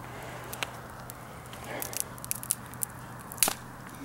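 Dry material is broken up by hand, giving a few sharp, close crackles and snaps scattered over a quiet background with a faint hum.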